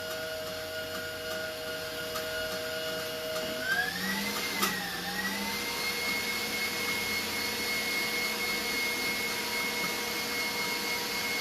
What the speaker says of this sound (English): So I turned the mixer up a little bit, and it's just about done.